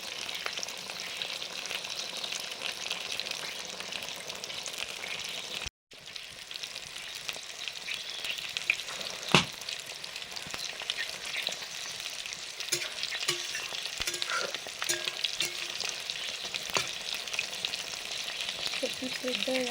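Fish crackles and sizzles steadily in a hot pan, a dense close frying hiss that runs for a long stretch with a brief cutout and an occasional clink of a utensil.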